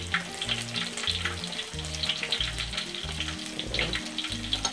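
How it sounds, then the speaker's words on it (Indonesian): Stuffed tofu filled with vegetables frying in hot oil, a loud, steady sizzle and crackle running throughout with no talk. "Kita goreng ya teman-teman ya"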